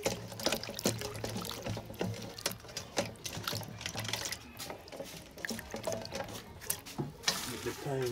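Salt mackerel is rinsed under water, with faint splashing, pouring and rubbing sounds that come and go in irregular bursts and stay fairly quiet throughout.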